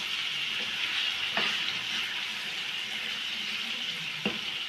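Palak with red chillies and salt cooks in a pan with a continuous, even sizzle, close by and broken by a couple of faint clicks, with no one talking.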